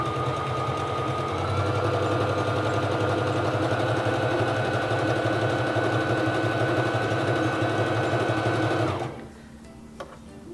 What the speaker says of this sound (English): Lower your presser foot and begin sewing.